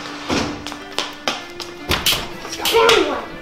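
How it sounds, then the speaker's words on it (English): A ruler slaps against a surface again and again during a real-life Baldi's Basics chase game at home, giving sharp, loud, irregular smacks, with children's voices in between. "Hurry, I still hear that ruler."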